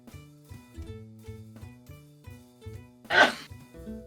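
A single abrupt sneeze bursts out over steady, repeating background music in a game scene, with no speech around it.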